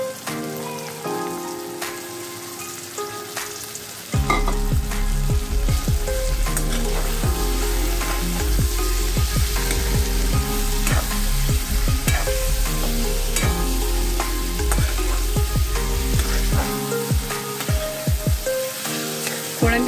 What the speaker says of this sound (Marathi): आता कोळंबी टाकते।